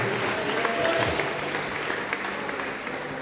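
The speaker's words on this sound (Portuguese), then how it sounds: "aplauda o Rei Jesus e tome o seu assento." Church congregation applauding during a service, a steady, moderately loud wash of many hands clapping with some voices mixed in.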